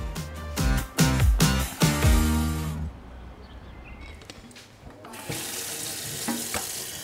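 Water gushes from a tap in loud, uneven bursts for about three seconds, then drops to a quieter steady trickle and a soft background rush, with no voices.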